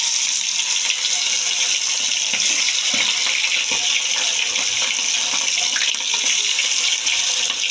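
Chicken meat frying in hot oil, giving a steady, loud sizzling hiss that runs unbroken from start to finish with no talking.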